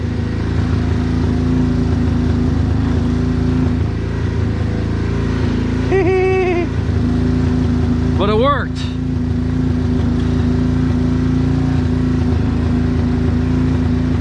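A steady car engine idles a little high and loudly close by throughout, with someone speaking briefly over the running motor.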